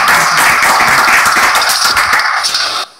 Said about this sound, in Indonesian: Tepuk tangan buat Ustadz K.